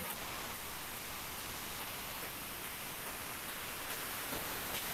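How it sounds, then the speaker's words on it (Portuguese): Heavy rain falls outside in a dense, steady hiss that fills the whole clip evenly and loudly, with no voices over it. "como o som da chuva está tão alto"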